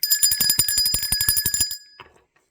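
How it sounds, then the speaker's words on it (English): A bell sound effect rings in a fast, even burst of bright, metallic strikes for under two seconds, then stops. "Let's ring the bell for that."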